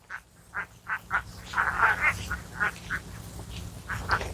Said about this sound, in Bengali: হাঁসগুলা নিয়ে মাঠের মধ্যে চড়াচ্ছে